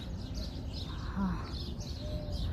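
Birds chirp and call intermittently in the evening on Al Noor Island, Sharjah, with a soft coo-like note midway, over a low steady ambient rumble.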